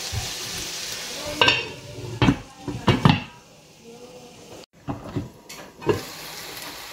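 Black beans and salted salmon are stirred in a frying pan, with a utensil scraping and knocking against the pan in irregular bursts over a soft background sizzle.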